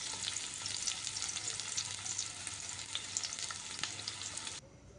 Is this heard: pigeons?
no